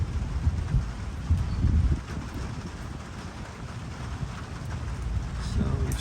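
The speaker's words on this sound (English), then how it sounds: "You can probably still hear the tinkle of rain on the roof here." Gentle monsoon rain patters softly on a roof during a morning shower, a faint steady hiss with occasional low rumbles, continuous and fairly distant.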